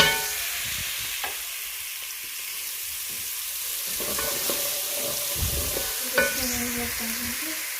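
Garlic frying and being stirred in a pan for dhaba-style aloo keema, a steady sizzle with scraping stir strokes and a few clinks, close and alone with no talk.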